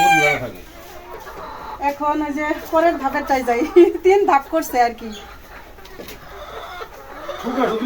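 Chickens on a home farm cluck and crow in short bursts, fairly close, while someone talks and laughs over them.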